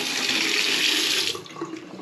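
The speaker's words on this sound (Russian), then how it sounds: "открываем горячую воду центральную" Hot water from the central supply runs from a tap in a home where a water heater was installed, a loud steady hiss for over a second that then thins and drops away, with no talk.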